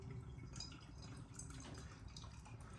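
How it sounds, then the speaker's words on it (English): Polly's Brew Co Mosaic Maize hazy IPA, 6.7% ABV, pours from a 440 ml can into an IPA glass, a faint, steady trickle and gurgle of liquid filling the glass. "Let's get the beer out first into a glass and see what we get."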